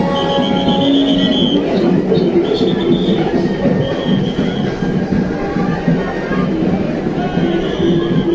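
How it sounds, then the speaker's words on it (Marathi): Rumbling of a Vande Bharat Express moving out of Kolhapur, heard from inside the carriage as a continuous low roar with faint high squeals from the wheels, loud and steady throughout. "पहिल्यांदाच रेल्वे जी वंदे भारत एक्सप्रेस आहे ती सुटलेली आहे"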